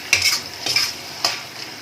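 A spoon scrapes through chilli chicken in sauce over a high flame, giving a few close stirring strokes over a soft steady sizzle.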